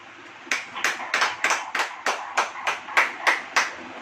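A church congregation at a sermon claps hands in a steady rhythm, about a dozen sharp, evenly spaced claps, fairly close and clear with no talk over them.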